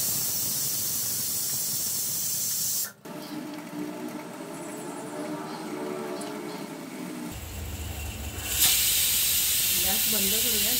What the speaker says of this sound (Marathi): इथे आपण कुकरला 2 शिट्ट्या करून घेऊ।